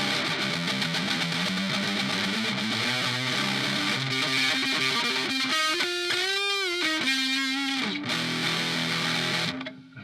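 Donner Extreme Driver guitar distortion pedal on its normal setting, a continuous gritty, buzzy distorted guitar tone with a hissy edge, sustained chords and a bending run played loud for about ten seconds before cutting off.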